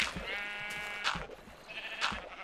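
Sheep in Minecraft bleat in a farm area, three short harmonic bleats spaced about a second apart over a low clattery game background, near and clear.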